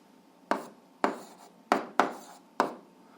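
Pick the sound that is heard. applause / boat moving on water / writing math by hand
writing math by hand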